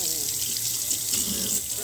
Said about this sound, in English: Wash the blades out, get the scales out from between the blades.